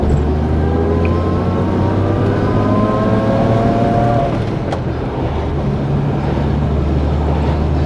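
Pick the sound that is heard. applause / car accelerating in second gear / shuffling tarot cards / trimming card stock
car accelerating in second gear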